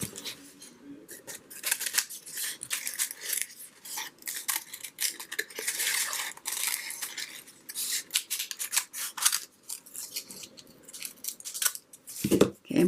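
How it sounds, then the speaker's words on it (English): Scissors snip through paper while hearts are cut out, the crisp blade strokes repeating in quick irregular bursts up close with no voices. "maybe what I'll do is cut some more hearts, and you can sketch or just freehand"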